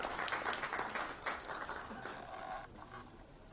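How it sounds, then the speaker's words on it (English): A conference audience applauds a guest speaker at a session on pension plan costs, a brief burst of scattered clapping that rises quickly and then tapers off, fairly faint and distant. "May we please have a big round of applause."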